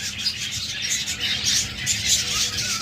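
Red-eyed budgerigars chirp in a cage, a busy overlapping flock of high twittering calls close by, continuous and fairly loud with no voices.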